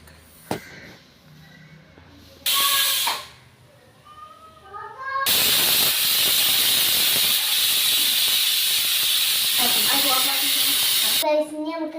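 Pressure cooker on a stove releasing a loud, sustained steam whistle hiss lasting several seconds, preceded by shorter bursts and kitchen clatter, with a voice and speech heard around it.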